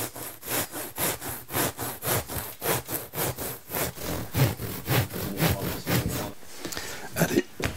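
A knife cuts Isonat eco insulation along a ruler, giving a steady rhythmic rasping, like sawing through fibrous board, with repeated back-and-forth strokes at moderate volume, close by, and no talk.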